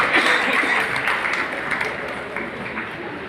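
Audience applause at a Rotary women's award ceremony on International Women's Day, a dense sustained clapping that fades slightly over a few seconds.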